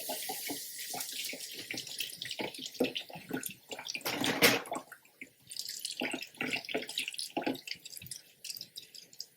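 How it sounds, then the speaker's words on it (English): Grapes rinsed under a running kitchen tap, a steady splashing water stream with irregular drips and squishy handling sounds, close and continuous with a brief louder gush midway. "Now I'm going to rinse this, the rest of these grapes in water."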